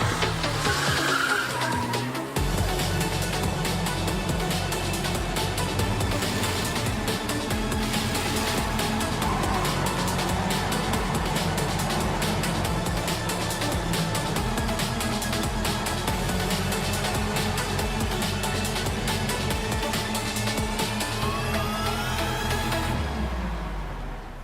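Race cars skid with sustained tire squeal and roaring engines in a motorsport video game, a loud continuous wash of screeching and revving that holds steady throughout without talk.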